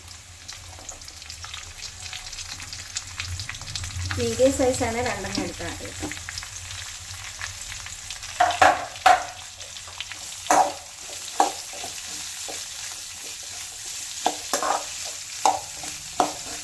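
Onion fries in a pan for spicy chicken curry, a steady sizzle broken by sharp clinks of a stirring spoon, while a person talks over the cooking.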